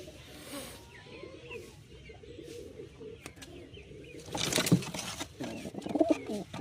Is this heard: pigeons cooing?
yes